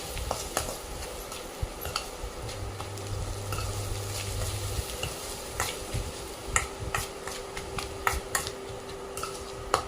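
Snack mixture frying in a pan, a continuous close sizzle with irregular spoon clinks and scrapes from stirring, the taps growing sharper toward the end.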